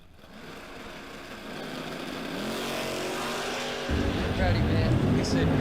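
Bracket drag racing cars at the start line, 590 and 573 dial-ins, engines revving and building loud and close under an announcer's voice, a sharper surge of engine roar near the end.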